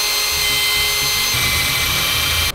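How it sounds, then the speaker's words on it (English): A power drill bores a hole in a bracket while a Subaru WRX STI six-cylinder cooling system is being repaired. The motor whines loud and steady, with grinding that deepens partway through before cutting off abruptly. "That's where we drill our hole."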